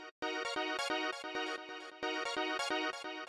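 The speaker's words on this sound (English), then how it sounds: "After that, I have a bit of echo. And what I'm doing with this is just dotted eighth notes." A rave techno synth stab repeats in choppy bursts with a dotted-eighth-note echo trailing each hit, creating a skipping, syncopated rhythm that is bright and dense, with no voices.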